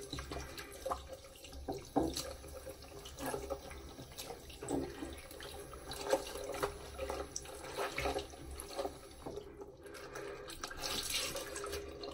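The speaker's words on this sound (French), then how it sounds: "Bon, maintenant je vais me rincer." Water runs steadily from a tap while a face is rinsed, with splashing and dripping over the continuous flow, close and fairly quiet.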